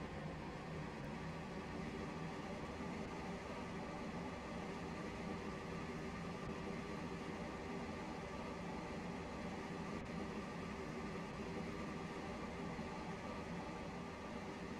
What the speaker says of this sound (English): This train is now approaching Berrily.